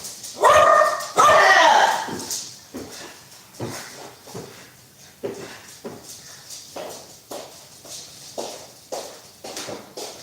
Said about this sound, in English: Let me see what this dog barking at, cause he done got on my last nerve.